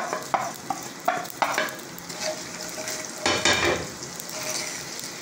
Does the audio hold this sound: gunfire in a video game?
no